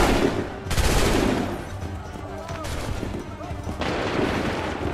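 Musket volleys crack out in a battle in Assassin's Creed III, a dense fusillade of overlapping gunfire rolling in loud bursts, with shouted commands from soldiers over the shooting.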